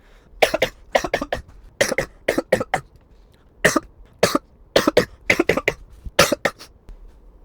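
Repeated harsh coughing fits close to the microphone, bursts of two to four coughs separated by short pauses.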